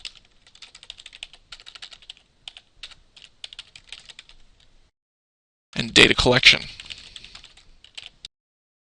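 Typing on a computer keyboard in bursts of quick clicking keystrokes, followed by a short spoken phrase and a final brief flurry of taps.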